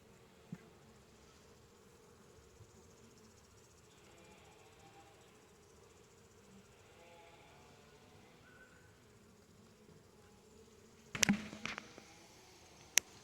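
Bees drone steadily inside an opened beehive while frames are slowly lifted and moved, a soft continuous buzz with a few louder bumps and knocks near the end, no talk.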